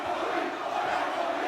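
A wrestling crowd in Phoenix roars in a continuous, dense wall of cheering and shouting. It stays at an even loudness for the whole moment.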